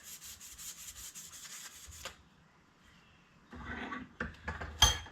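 A motorcycle brake caliper part rubbed with 600 grit sandpaper in quiet, quick back-and-forth strokes, a brief pause, then more irregular scrubbing and handling noises, close and soft.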